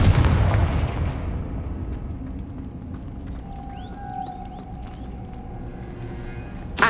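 The Confringo explosive spell is cast in the Hogwarts Legacy video game, opening with a loud, deep booming blast that rumbles and fades, followed by softer magical whooshes and tones.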